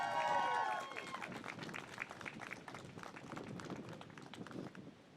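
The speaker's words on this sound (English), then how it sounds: "let's cheer for each other first and foremost" Crowd at a Gaza solidarity rally and 5k run in Harrisburg, Pennsylvania, cheering and applauding: a loud whoop opens, then sustained clapping and mixed voices carry on steadily before tapering off near the end.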